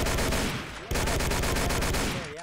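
Rapid bursts of automatic gunfire from soldiers in a war video game, loud and close, a dense rattling volley, a brief gap, then another sustained volley that tails off.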